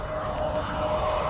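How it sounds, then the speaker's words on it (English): A steady, loud drone from an airplane flying over a golf course at a Tenerife resort, a continuous engine roar with a faint tonal whine and no breaks. "Oh, the plane coming."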